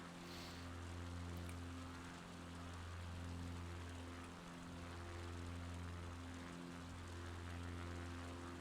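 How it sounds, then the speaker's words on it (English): An XCub propeller plane drones steadily in Microsoft Flight Simulator, a constant engine hum with low harmonic tones and a faint hiss of airflow throughout, no talking. "I'll be flying down to Culdrose in basically near Land's End for the last leg of this flight."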